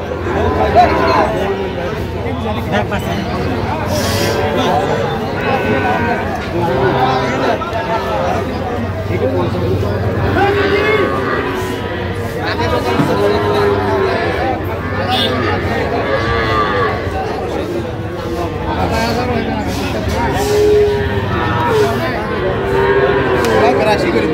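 Cattle low repeatedly at a busy livestock market where Sahiwal breed bull calves are being traded, the moos rising over steady crowd chatter and hubbub throughout.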